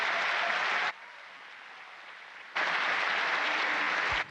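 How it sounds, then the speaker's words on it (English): Students give a round of applause in a school gathering, a loud burst of clapping that drops to quiet after about a second, then resumes just as strongly and cuts off abruptly, suggesting an edited or transmitted feed. "we'd like to all give you a round of applause for all you do"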